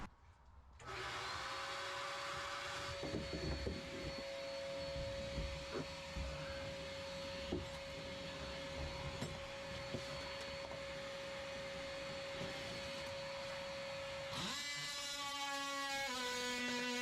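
A power tool grinds and cuts out a glassed-in chainplate on a sailboat, a loud continuous whining roar that runs steadily for about fourteen seconds, then shifts pitch and winds down near the end.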